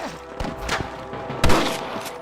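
Gunfire in the Red Dead Redemption western shootout game, several sharp close shots and thuds spread irregularly, with one especially loud blast near the middle, over a low background rumble.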